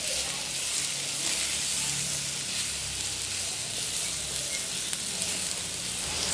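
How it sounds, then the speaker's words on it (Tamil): Butter sizzles in a hot pan on a stove, a dense, even hiss that holds steady throughout, close and unbroken, with no voices. "அதுக்கிடையில் இந்த அடுப்பில் வச்ச சட்டிக்குள்ளே தேவையான அளவு பட்டர் போட்டுருவோம்"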